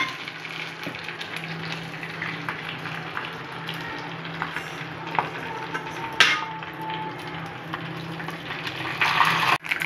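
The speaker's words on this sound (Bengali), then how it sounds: "এই যে আমার তেল গরম হয়ে গেছে, এখন আমি এই যে কেরা পাতা আর এগুলো সব দিয়ে দেবো।" Curry leaves and other seasonings sizzle steadily in hot oil for a South Indian dosa and chutney preparation, a continuous close crackling hiss with a few sharper pops and a faint low hum underneath.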